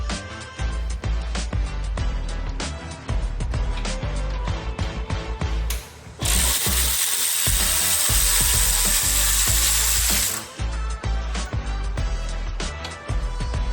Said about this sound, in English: This is the last set of screws, now removing faster.